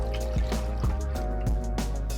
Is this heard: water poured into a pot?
yes